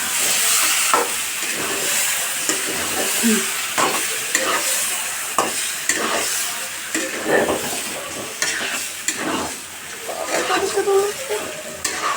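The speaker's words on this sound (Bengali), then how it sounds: "মাংসগুলো আমি এখন ভালোভাবে কষাই নিব" Beef with raw papaya fries in cooked-down spices, giving a close, busy sizzle broken by repeated rhythmic scraping and stirring strokes across the pan.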